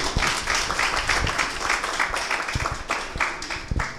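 Audience applause at the official launch ceremony of a rehabilitation centre in Artibonite, a burst of many hands clapping together, fairly faint and fading slightly toward the end.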